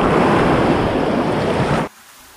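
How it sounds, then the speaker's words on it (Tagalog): Large waves crash in a loud, close, continuous roar of surf and spray near a bridge where anglers fish for tilapia, cutting off abruptly near the end. "Lalaki na alon mga bro."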